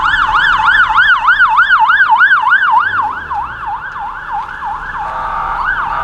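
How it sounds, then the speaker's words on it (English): An ambulance siren in Georgetown, Guyana wails in fast, regular up-and-down sweeps, loud and close, continuing steadily with no voices. "I guess this is the ambulance."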